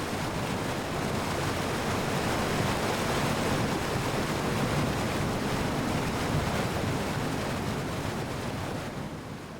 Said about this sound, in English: the foaming water masses of Germany's highest waterfall plunge down over almost 400 meters